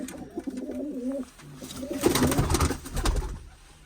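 Soft, rolling pigeon coos repeat close by in a steady rhythm, followed by a burst of rustling or flapping noise.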